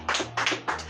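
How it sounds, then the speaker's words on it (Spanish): Congregation clapping during a church service, three brief bursts of applause spaced across a second over a steady low hum, fairly close and loud. "Denle un aplauso al Señor."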